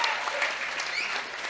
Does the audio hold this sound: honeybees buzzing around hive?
no